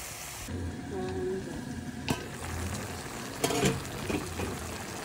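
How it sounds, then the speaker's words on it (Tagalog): Vegetables simmering in coconut milk in a covered pot for ginataang gulay, a soft steady bubbling and faint sizzle, with a couple of brief clinks from the lid or utensil. "Ayan na po ang ating gulay na niluluto."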